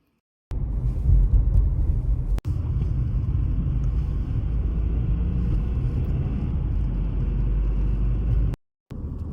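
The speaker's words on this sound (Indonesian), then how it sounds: "Jadi kita harus nyetir 70 km atau 75" A car is driven along a road on a 70 km trip to a hospital. A steady low rumble of road and engine noise comes from inside the car, with one brief dropout near the start and a short gap near the end.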